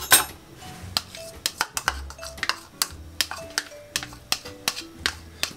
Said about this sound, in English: Just gonna get a spoon and just scrape out the rest of this.